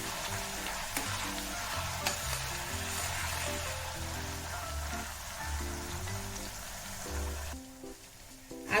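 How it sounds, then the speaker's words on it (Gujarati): Ginger, garlic and green chili paste sizzling steadily in oil in a pan over a lowered gas flame, a broad continuous hiss that runs nearly throughout with music beneath, then fades near the end. "તેની અંદર પેસ્ટને આપણે સાંતળી લઈશું."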